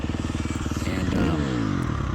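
A 2021 Husqvarna FC350 motocross bike's single-cylinder engine runs on Vortex ignition map 3, a close, pulsing throb that lifts into a brief rev midway before settling back to a rapid idle.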